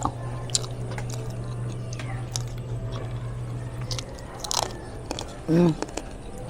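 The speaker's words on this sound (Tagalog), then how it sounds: "Yung balat ng pork. Malutong." Crispy fried pork skin from lechon kawali crunches in a few bites amid quiet chewing and faint background noise.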